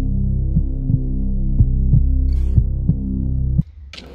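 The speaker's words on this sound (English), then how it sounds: "And his freaking veins are pulsing!" A pulsing veins sound effect from the horror game That's Not my Neighbor: about eight deep, regular heartbeat-like throbs over a loud, steady low hum that cuts out abruptly near the end.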